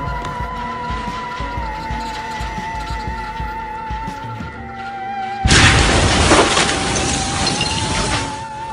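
The Beirut, Lebanon explosion, heard 11 kilometers away at a marina: a sudden loud blast cuts in partway through, after a hum of engines, followed by a sustained roaring rumble that slowly fades.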